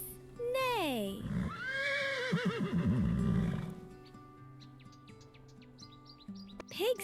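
A horse lets out a loud whinny, a descending shriek trailing into a long wavering neigh, followed by quieter bird chirps over soft background music.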